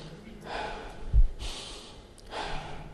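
Someone speaking on the philosophy of prayer takes audible, close breaths, with a sharp inhale in the middle and breathy exhales around it, and no words spoken.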